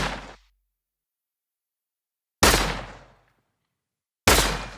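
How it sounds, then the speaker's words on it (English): Three sharp, punchy gunshots from a layered sound-design effect, with booming low ends and decaying tails, spaced irregularly with silence between them. "The gunshot's main sounds were layered inside FL Studio."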